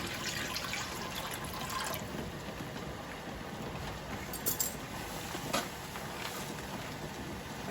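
Water poured into a brine of white vinegar for pickling, a steady close-up stream of liquid with a few soft knocks and clinks from the container partway through.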